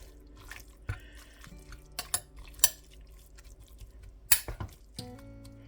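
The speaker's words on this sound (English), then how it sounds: "I'm going to give this a good mix" Sauce being stirred in a crockpot, scattered clinks and wet scraping knocks from a utensil against the pot, with short pauses between strokes, close and moderately quiet.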